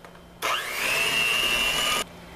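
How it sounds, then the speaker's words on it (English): An electric mixer whirs steadily for about a second and a half as it beats creamy peanut butter and butter together in a bowl, starting abruptly, rising slightly in pitch, then cutting off; close and loud, with no talking. "I'm going to mix the peanut butter and the butter up real quick"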